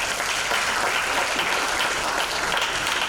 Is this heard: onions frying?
no